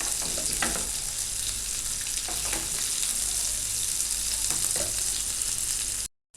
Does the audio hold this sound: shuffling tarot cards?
no